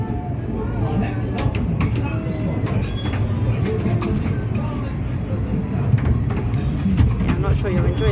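Riding a train at the Trago Mills festive attraction gives a steady, continuous rumble of the carriages. People talk over it throughout.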